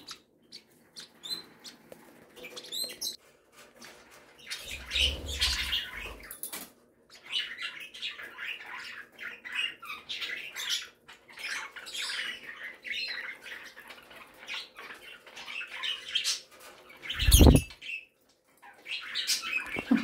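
A pet bird in an indoor bird room, readying for a nap, makes soft scraping and chirping sounds while grinding its beak, with brief wing flaps and a sharp thump near the end; no talking.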